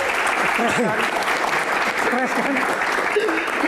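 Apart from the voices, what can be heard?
audience applause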